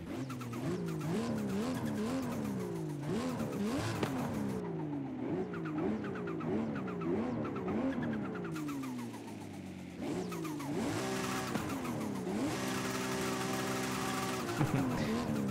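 Ultima Evolution supercar in Forza Horizon 5, its engine revving hard through repeated gear shifts with turbo whooshes and flutters, plus a brief tire squeal, loud and continuous with no talking.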